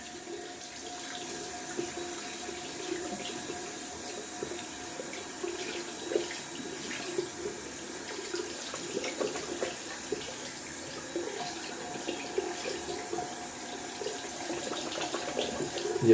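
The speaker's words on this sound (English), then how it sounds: "Rinsing out the brush, see how much lather is left." A shaving brush is rinsed under a running bathroom tap after wet shaving, water splashing steadily and moderately close for the whole stretch, with faint clinks and sloshes as the brush is worked under the stream; no one speaks.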